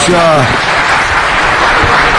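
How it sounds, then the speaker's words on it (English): Brief burst of applause in a city council chamber, loud dense clapping right after a voice trails off at the start. "Another round of applause for Ms. Hahn for her hard work right there."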